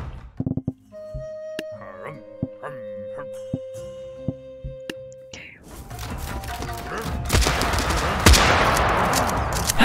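Wild West gunfire in Totally Accurate Battle Simulator: scattered sharp shots at first, building into a dense loud volley of rapid overlapping gunfire in the second half, with game music tones beneath.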